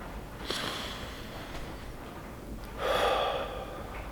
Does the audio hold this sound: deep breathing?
yes